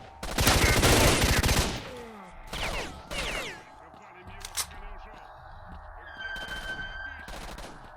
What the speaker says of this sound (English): I'm shooting all my ammo away